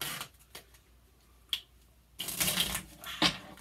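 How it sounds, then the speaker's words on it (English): Playing cards are shuffled by a magician at close range, with a few soft isolated flicks and snaps followed by a louder riffling burst near the end. "I'm going to shuffle them up really,"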